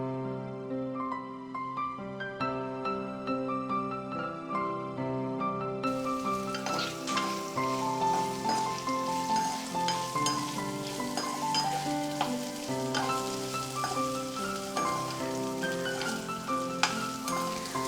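Finely chopped bitter gourd fries in a pan seasoned with curry leaves and a pinch of asafoetida, with a loud, steady sizzle and crackle that swells as the pieces go in, and stirring sounds over it.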